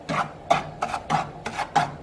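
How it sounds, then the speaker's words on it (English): A spatula scraping and stirring cornmeal as it roasts in a big skillet, six rhythmic gritty rasping strokes, close and steady with no talking. "you want to take your spatula and start roasting it"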